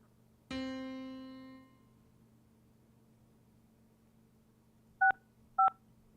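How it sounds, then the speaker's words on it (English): A single sustained tone fades out over about a second, then after a pause two short, crisp telephone dialing beeps sound in quick succession against a quiet background hum. "This is phone tone."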